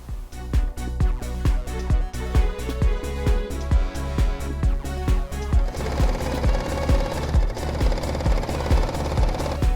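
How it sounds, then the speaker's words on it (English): Sewing machine stitching the sleeve of a turtleneck top, a loud close rhythmic pounding of the needle repeating rapidly and evenly throughout, with no voices. "The next thing we need to do is sew the sleeve and then attach the sleeve to the arm's eye."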